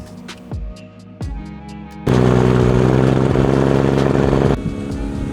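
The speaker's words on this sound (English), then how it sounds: "I love the way his car sounds." A car engine idles with a few sharp blips, then holds a loud, steady, throaty rev close by before dropping back toward idle.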